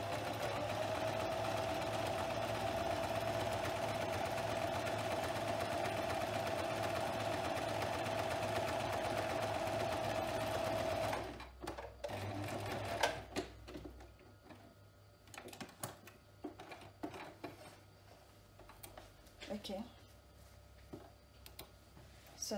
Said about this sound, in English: I already sewed about a quarter of an inch.